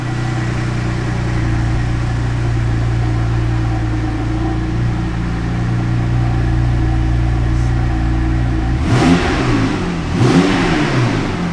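A Porsche 3.6-litre twin-turbo engine idles with a steady low rumble, then revs sharply twice near the end, each blip rising loud and falling back.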